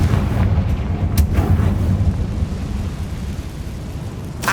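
Confringo fire spell explosion in Hogwarts Legacy, a heavy low boom with a sharp crack early on and a rumbling tail, loud and close, with another hit at the end.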